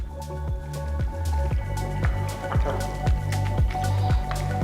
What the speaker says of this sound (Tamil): பாஸ்தாவில் சாஸ் நல்லா கோட் ஆகிற மாதிரி மிக்ஸ் பண்ணுங்கள்.